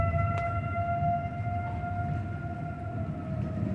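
Tornado sirens wailing across Chicago, a steady sustained tone with layered pitches that swells and eases slightly, sounding outdoors at a moderate distance, with no talking over it.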